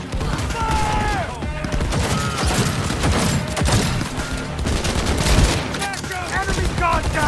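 Rapid bursts of automatic gunfire and heavy shots rattle through a firefight in the video game Cyberpunk 2077, loud and continuous, with shouted voices breaking in over the shooting.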